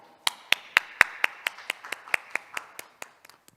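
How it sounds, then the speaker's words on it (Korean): Sparse, distinct hand claps at a keynote session of an urban-planning conference, about a dozen sharp, evenly spaced claps fading slightly, then a few quick final ones; close and clear rather than a dense crowd. "큰 박수로 맞이해 주시기 바랍니다."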